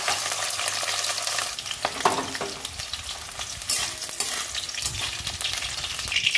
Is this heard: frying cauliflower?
yes